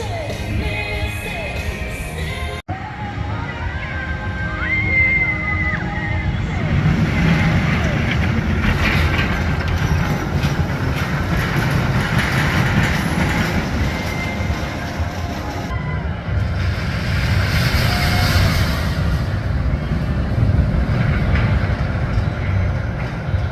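A Mine Train roller coaster at Six Flags Great Adventure, running two trains, rumbles steadily throughout with loud low-end clatter and rolling noise, while voices talk over the ride.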